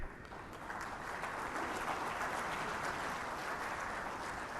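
A dense, steady wash of audience applause for a speaker at a poultry industry veterinarians' event, sustained clapping from a large crowd heard slightly distant.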